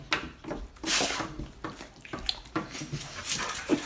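A puppy whimpers and yips in soft, brief bursts with faint rubbing sounds between them, close by and fairly quiet, with no talk over it.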